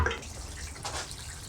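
Collected runoff water pours from a watering can onto a Nellie Kelly passionfruit plant in a greenhouse, a soft steady splashing and trickling at close range, fairly quiet and continuous.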